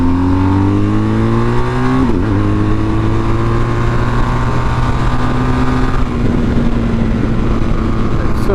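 A BMW GS 1250 motorcycle's engine pulls hard and loud, rising in pitch through gear changes around two and six seconds, with steady close onboard roar throughout.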